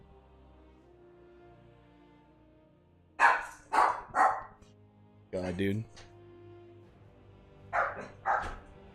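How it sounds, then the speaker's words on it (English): Several barks come from a couple of dogs somewhere indoors, in short bursts of two or three over a low hum, with a voice speaking briefly among them. "It's my dogs are getting upset."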